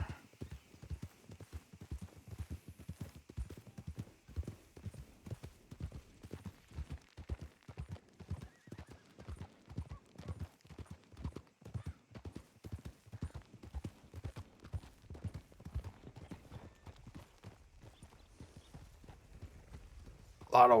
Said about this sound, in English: that's a lot of horses coming into town